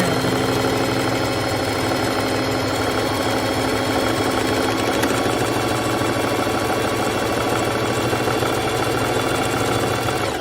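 A bernette b05 sewing machine stitching a buttonhole runs continuously with a loud, steady mechanical hum and rapid needle chatter, holding an even pace throughout.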